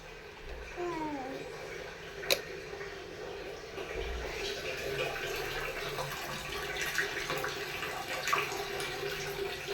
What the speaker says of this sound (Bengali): বাথরুমে পানি ছেড়ে দিয়ে আসছি